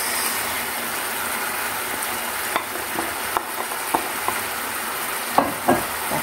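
Pork ear sisig sizzles and frys steadily in a pan as onions go in, with scattered light clicks and stirring taps over the continuous hiss.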